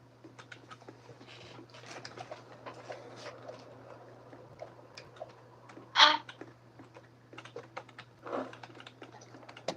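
Computer keyboard typing during a Roblox session: a fairly quiet, irregular patter of key clicks runs throughout, with a couple of louder thumps near the middle and a low steady hum underneath.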